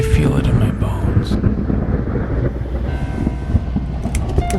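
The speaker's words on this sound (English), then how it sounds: "I think there's a big storm coming." Rumbling thunder from an approaching storm in the video game The Cat Lady, a continuous low roll with wind-like noise, loud and dense throughout.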